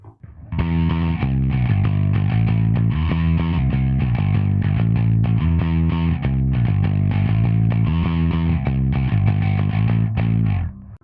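A Lakland 4401 bass guitar plays through a tone-shaping effect with the high band engaged, giving a distorted, gritty riff of rhythmic repeated notes that runs loud and steady for about ten seconds.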